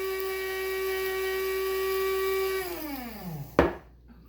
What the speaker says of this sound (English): You want to grind it up super fine.